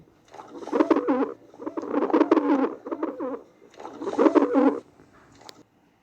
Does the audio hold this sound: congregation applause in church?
no